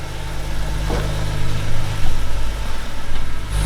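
A car engine idles steadily with polyurethane engine bushings fitted, a deep low rumble heard close from inside the car with slight swells as it is revved a little, with no talking.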